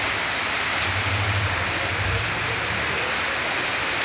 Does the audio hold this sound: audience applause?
no